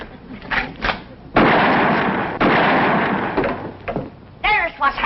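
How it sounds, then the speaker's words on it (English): Two loud gunshots blast at a telephone wire in a rustic hillbilly feud scene, the first sharp report followed about a second later by a second; people talk before and after the shots. "It took you 2 shots to get that wire."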